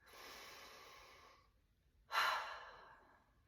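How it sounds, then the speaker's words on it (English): A slow, deep breath close to the microphone: a long soft inhale fading out, a brief pause, then a stronger breathy exhale that tails off quietly. "Go ahead and take a deep breath for me if you would."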